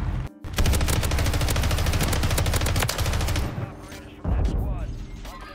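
Rapid automatic gunfire in Warzone, a dense loud burst of shots lasting several seconds, then a pause and a shorter burst, with speech mixed in.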